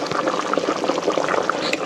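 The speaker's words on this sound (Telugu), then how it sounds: "సో గాయ్స్, నాటుకోడి అయితే ఉడుకుతుంది." Country chicken curry boils in a pot in a village kitchen, and its steady, dense bubbling and gurgling sounds close and fairly loud throughout the short stretch.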